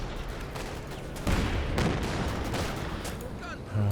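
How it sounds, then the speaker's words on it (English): Artillery fire in Company of Heroes 2, a 2v2 match, with repeated booming impacts over a dense, continuous battle din of gunfire; the heaviest blasts land around the middle and near the end. "Artillery dropped here thanks to that flare."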